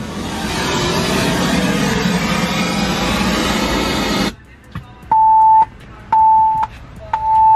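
Loud broadband rumble cuts off, then a few sharp clicks and three steady electronic beeps of roughly half a second each, evenly spaced, from a Kicker Key 200 remote starter in a Ford F-150.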